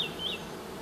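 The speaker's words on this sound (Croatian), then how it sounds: "se ova pčelinja zajednica izrojila" A honeybee colony buzzing at an opened hive that has just swarmed, a close, steady insect hum with a brief higher whine from a bee flying past.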